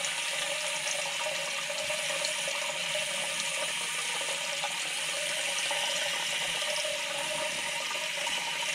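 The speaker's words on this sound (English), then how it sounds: "we know we've got water flow, and actually I'll let that run for a minute and just flush out any air" Water runs steadily through a newly installed bidet sprayer, a constant hissing flow with faint mechanical ticking underneath and no talk.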